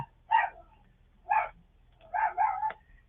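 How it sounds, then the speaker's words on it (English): A dog barks four times at a distance, short sharp woofs with the last two coming in quick succession, over a quiet low hum. "Him out there barking at somebody, probably kids."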